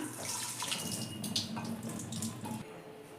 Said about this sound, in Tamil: இப்போ நம்ம வந்து இதை வடிகட்டில் வடிகட்டிக்கலாம்